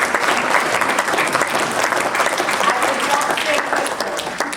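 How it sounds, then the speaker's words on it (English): An audience in a hall applauds a woman named Susie, a dense, steady round of clapping that fills the whole stretch at full strength before tapering slightly at the end. "I think what I'd love is that we all actually just applaud Susie before I start"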